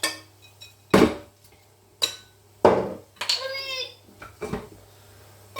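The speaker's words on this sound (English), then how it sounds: "So I'm just chopping up these onions." A knife chopping onions on a board, several sharp separate thunks spaced a second or so apart, close by, with a voice briefly in between.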